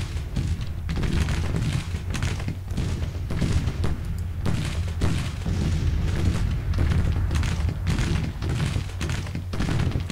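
Booming 6-pound field guns fire in a Civil War battle from the game Grand Tactician, a steady rumble of repeated distant cannon thuds with sharper reports over ten seconds and no talk.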